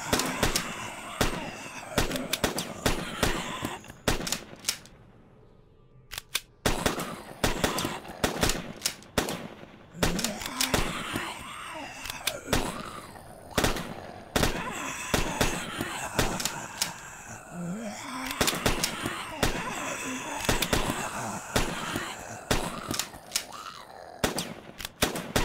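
Rifle gunfire in the zombie shooter Emerge, a rapid run of sharp cracking shots, some in quick bursts, with a short quiet gap early on, loud and close throughout.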